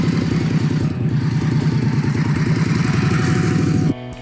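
An Indian Scout motorcycle engine runs loud and steady with a throbbing, rhythmic exhaust pulse, then cuts off abruptly near the end.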